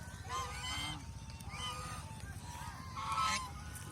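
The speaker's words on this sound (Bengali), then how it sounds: "এই যে ছেলে হাঁসগুলি দেখেন" Male geese on a goose farm honk in repeated loud bursts, several birds calling over one another close by, with no talk.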